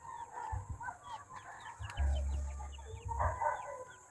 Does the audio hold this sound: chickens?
yes